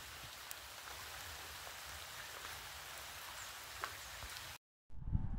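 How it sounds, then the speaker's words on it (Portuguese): Steady rain falling in a town in northeastern Brazil, a dense even patter with occasional louder drops, continuous until a brief cutoff near the end. "Muita chuva."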